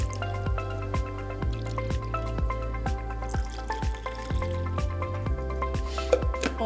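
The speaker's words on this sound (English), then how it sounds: "Fill the water to that line, and you'll have the perfect amount of water every time." Tap water is poured into a Scentsy diffuser reservoir, a close, steady trickle with a rapid, regular patter of drips and gurgles that runs for several seconds, with no voices.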